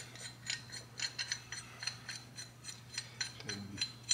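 Metal clicking and ratcheting as a Jim's bearing installer tool is threaded onto a shaft while fitting a Feuling hydraulic cam tensioner upgrade on a Harley Davidson, a faint run of rhythmic ticks over a low hum.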